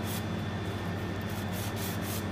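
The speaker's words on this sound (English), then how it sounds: "now I'm gonna scuff up the finish here in these high spots" A fine sanding block scuffs a fishing rod's finish on its high spots with a steady, continuous close rubbing and scraping, no voices.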